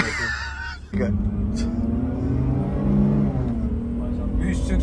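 Mahindra Scorpio engine revving hard toward 6000 rpm with a gear change, a loud close drone whose pitch climbs, dips briefly, then climbs again, with people talking over it.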